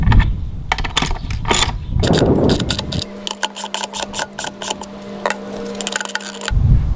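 Bolts are tightened into concrete on a solar shower stand, producing a dense run of close, sharp metallic clicks and knocks, with a steady low hum under the middle part.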